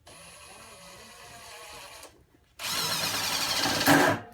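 A Stealth Force Gen5x impact driver on speed 3 sinks a 2-inch T25 Torx screw, a quieter first burst followed after a short pause by a loud, dense rattling impact hammering that swells near the end.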